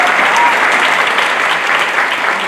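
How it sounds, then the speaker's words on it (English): A crowd at a high school senior awards night breaks into loud, continuous applause, dense overlapping claps filling the hall without pause. "let's give a round of applause for the staff that puts this together"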